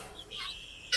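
Chickens clucking on a household farm, faint short calls heard briefly in a quiet, distant-sounding setting.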